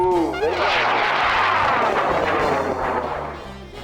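An XPRS model rocket launches with a loud, broad roaring rush that starts sharply and holds steady for a few seconds before tapering off slightly.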